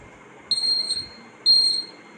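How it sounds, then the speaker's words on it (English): A homemade obstacle-detecting spectacles project for blind people gives two loud, sharp electronic beeps about a second apart, each roughly a third of a second long, close up in a quiet room. "When some object come near to us, it will give alarm."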